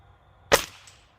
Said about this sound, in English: That was 3 shots